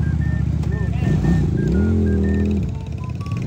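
Motorcycle engine running and revving with a rising, sustained drone near the middle, heard close by under people talking and shouting at a rural dirt spot.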